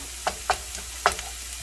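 Onions sautéing until translucent in a pan for queso dip, with faint sizzle under a few sharp utensil scrapes and taps as they are stirred, no talking.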